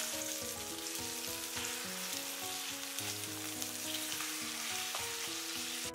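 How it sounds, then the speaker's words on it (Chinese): Shiitake mushrooms and egg fry in hot oil in a wok, making a steady, close, continuous sizzle with faint scraping from a spatula. "煎至底部微黄，我们再给它翻个面"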